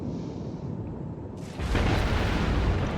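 A torpedo strikes a ship in the naval combat game World of Warships, a sudden deep boom that swells into a sustained rumbling roar over steady background game noise.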